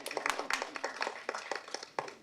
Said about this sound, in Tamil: அட கைதட்டுங்க, என்னங்க அது?